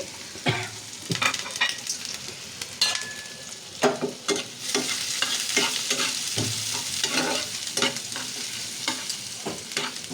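Onions fry in a pan with a constant bright sizzle, interrupted by frequent scraping and clinking strokes of a spatula stirring them, close and fairly quiet, with no talking.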